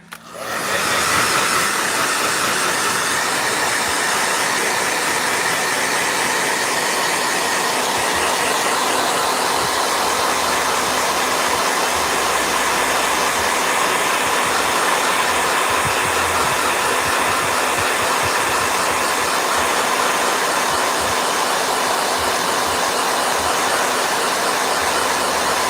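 A blow dryer runs loudly and steadily after a quick start, a constant close-up roar of motor and rushing air with no pauses or speech.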